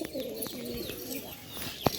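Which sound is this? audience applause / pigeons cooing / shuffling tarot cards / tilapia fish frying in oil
pigeons cooing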